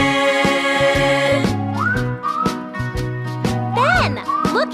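Rising, sliding whistles play over a bouncy musical backing with steady beats, several whistled swoops in succession.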